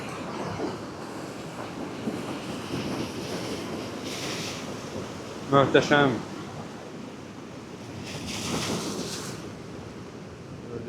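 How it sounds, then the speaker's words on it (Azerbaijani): Rough Atlantic waves break against rocky shore on Madeira, producing a steady roar of surf with heavy wind buffeting the microphone and swells building toward the end; someone speaks briefly. "Gördüyünüz kimi çox əsəbi bir okeandır"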